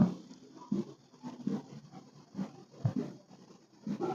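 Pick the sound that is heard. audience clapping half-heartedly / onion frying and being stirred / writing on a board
writing on a board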